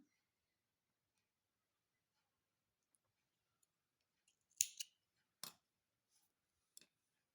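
Scissors snip crochet yarn at close range, giving two or three crisp cuts with small clicks and ticks around them, against near silence.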